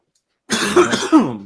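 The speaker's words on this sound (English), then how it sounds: "Let me go cough up a lung real quick." After silence, a person coughs hard, a couple of rough, throaty bursts close to the microphone.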